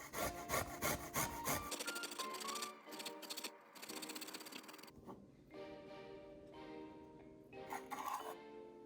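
A microplane grates in a kitchen, with quick rhythmic rasping strokes close by, pausing and resuming over several seconds, fairly quiet with no talk.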